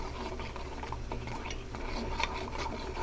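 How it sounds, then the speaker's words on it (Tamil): A tomato and vitamin E soap mixture being stirred slowly in a pot, a steady close scraping swish with soft clinks of the utensil, running continuously at moderate volume. "இப்போ இது ஸ்லோவாக இந்த மாதிரி கலக்கிட்டே வரலாம்."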